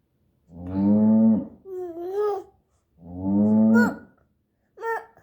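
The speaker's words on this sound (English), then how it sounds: "That was a cow." A smart speaker's animal-sounds game plays a recorded cow moo, two long lowing calls with brief higher bleating-like tones between them, heard close and clear with no talk.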